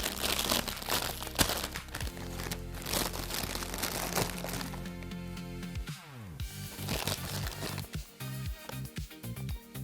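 Crunchy cola-flavoured candy being unwrapped and chewed during a Danish candy tasting, with close crinkling and crackling of wrapper and bits alongside brittle crunching for several seconds.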